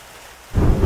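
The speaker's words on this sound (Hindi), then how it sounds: "तुम बारिश में क्यों भीग रही हो" In a Hindi animated cartoon, heavy rain and a deep rumble of thunder suddenly swell loud after a quiet start.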